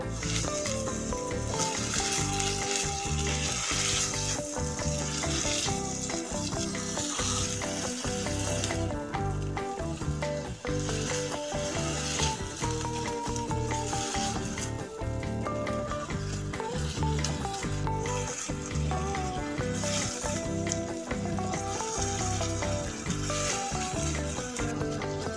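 Chicken filling for steamed buns frying in a pan, a steady loud sizzle that runs throughout with continuous scraping and stirring and no talk.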